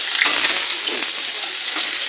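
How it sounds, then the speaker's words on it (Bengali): Pointed gourd and potato pieces fry in oil in a pan, producing a dense, continuous, close crackling sizzle with no talk. "আগে পটল আলুটা একটু ভাজা ভাজা হয়ে যাবে"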